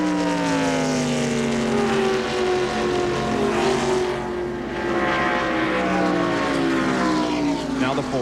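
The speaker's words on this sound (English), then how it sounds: "You'll hear a more traditional sound with the 24." Jeff Gordon's number 24 NASCAR stock car races in the 1995 Pepsi 400, its engine a sustained loud drone that sweeps in pitch as it passes close by, under a commentator's voice.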